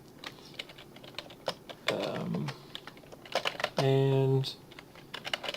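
Python code being typed on a computer keyboard: scattered quick key clicks with a few louder strikes, heard under someone speaking briefly.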